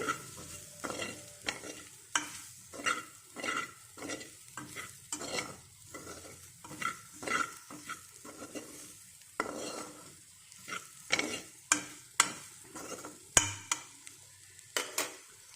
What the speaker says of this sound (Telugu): ఇప్పుడు ఇలాగా ఒక్కసారిగా కలుపుకోవాలి